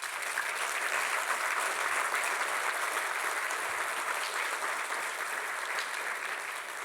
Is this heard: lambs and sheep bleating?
no